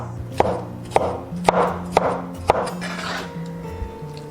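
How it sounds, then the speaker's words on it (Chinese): A knife cuts peeled, blanched tomatoes into small pieces on a board, with five crisp, evenly spaced thunks about half a second apart, followed by softer, fainter cuts. The chopping is close up, with no voices. "直接改刀切成小块"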